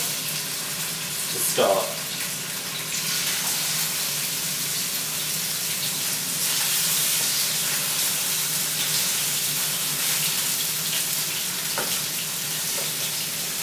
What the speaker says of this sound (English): what I'm going to do is put the salmon into the pan so we seal on one side